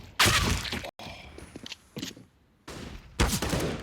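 Desert Eagle pistol shots in a Counter-Strike match on Dust2, loud, sharp bursts of gunfire in a few clusters with brief gaps and faint clatter between them.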